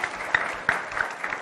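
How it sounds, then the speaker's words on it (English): Brief applause from a conference audience welcoming a moderator, a moderate patter of clapping with a few sharper claps standing out. "A round of applause for her."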